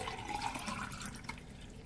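Liquid being poured steadily into a glass, a continuous close splashing and gurgling stream with no talking.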